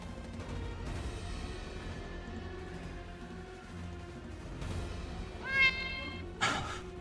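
Cat meows serve as a fantasy tabletop illusion-spell effect, with a low murky background, a couple of sharp rising yowls near the end and a brief scuffling burst after them.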